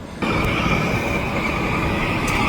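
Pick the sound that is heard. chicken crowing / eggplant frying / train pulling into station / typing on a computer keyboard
train pulling into station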